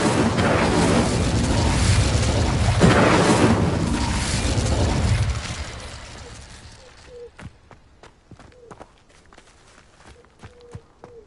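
Incendio fire spell cast in Hogwarts Legacy gameplay: a loud, dense whooshing roar of flame and crackling for about five seconds, then dying away into scattered sharp pops and clicks.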